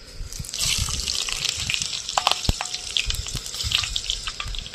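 Whole green chilies, whole garam masala spices and cumin seeds sizzle steadily in hot frying oil, a continuous bright crackle with scattered pops throughout.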